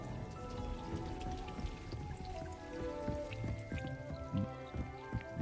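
Water pours steadily over plants in the Hogwarts Legacy video game, a soft continuous patter and drip with small splashes, close and fairly quiet, with no talking.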